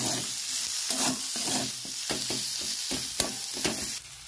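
Pakora filling being stirred in a hot pan for bread pakora, with repeated scraping strokes over a steady sizzle and a sharp clatter near the end, no voices.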